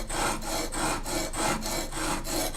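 A hand plane blade is honed on sandpaper to form a secondary bevel, metal rasping against grit in steady back-and-forth strokes, about eight rhythmic passes, close and fairly loud with no voices.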